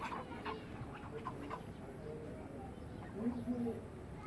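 Four ducks at a rural homestead give short clucking, fowl-like calls, scattered and fairly faint, with a louder burst near the end, over steady outdoor background noise.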